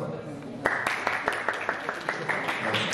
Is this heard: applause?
yes